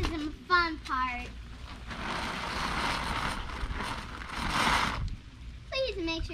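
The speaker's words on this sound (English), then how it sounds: "use the handy dandy battery powered leaf blower, and we're going to blow out the tube" A battery-powered leaf blower blasts air through a dryer vent tube in a loud, whooshing rush lasting a few seconds, with children's voices and talk before and after.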